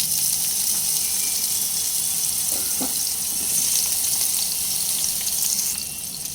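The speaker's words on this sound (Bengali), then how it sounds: "ওই একই তেলের মধ্যে আগে থেকে কেটে ধুয়ে রেডি করে রাখা বেগুনগুলো সব দিয়ে দেবে" Washed, cut eggplant pieces fry in hot oil with a dense, continuous hiss and crackle, close and steady, with a few soft knocks of the pieces landing and stirring, easing slightly toward the end.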